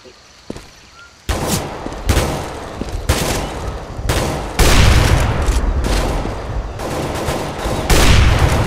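Counter-Strike GO gunfire rings out in loud bursts of rapid automatic shots, several separate volleys with short gaps, close and harsh, one or two sharper single cracks early on.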